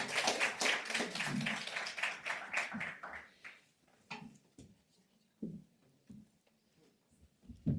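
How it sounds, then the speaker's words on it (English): An audience at a conference session on refugee labour pathways claps for a few seconds in a fairly quiet room, the applause thinning out into a handful of scattered, separate taps and knocks. "A big round of applause."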